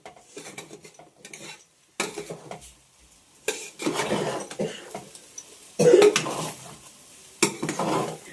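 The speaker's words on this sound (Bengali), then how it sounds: "ওই যে যারা বিয়ে বাড়িতে রান্না করে না তাদের মতো কড়াই ঘোরাচ্ছে" A metal ladle scrapes and clanks around a large kadai of sizzling food in bursts of stirring, with pauses between, close and fairly loud, and a cough in the middle.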